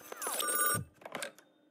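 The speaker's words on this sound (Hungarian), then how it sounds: "Telefon." A telephone ringing in the video game Robocop Rogue City: a bright electronic ring burst lasting under a second, followed by a few shorter quieter tones, moderately loud with no talk.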